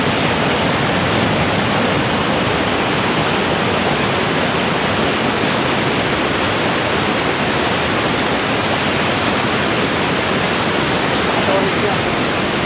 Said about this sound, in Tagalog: Makibato Falls